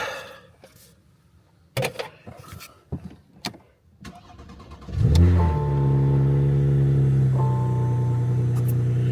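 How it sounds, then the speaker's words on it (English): After some clicks and clunks, a 2018 Porsche Panamera 4S with a 2.9L V6 biturbo engine cranks and fires up, flaring loudly before settling into a steady, close, high idle. "Let's go start this thing up."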